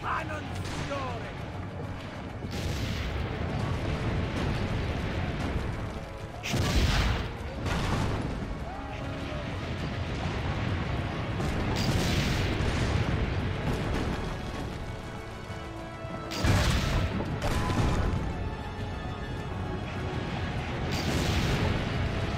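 Cannon fire and explosions in Assassin's Creed Brotherhood, heavy booms landing every few seconds over a dense, continuous battle din with shouting voices mixed in.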